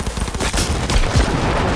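Dense gunfire in the video game Cyberpunk 2077, a loud continuous barrage of overlapping shots and booms filling the whole moment with no pauses.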